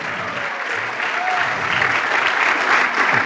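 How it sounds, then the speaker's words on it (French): A church congregation bursts into loud, sustained applause, a full room of clapping that swells toward the end, with cheering voices mixed through it. "C'est le temps d'applaudir!"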